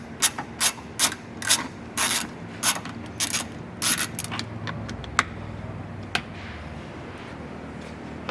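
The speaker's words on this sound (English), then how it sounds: "Now I'll grab our 10mm on an extension and remove the bolts." Ratchet with a 10mm socket on an extension removing bolts for a roof rack install on a 2022 Toyota Tundra CrewMax: a series of close, crisp clicking bursts in a quick rhythm, then sparser single clicks.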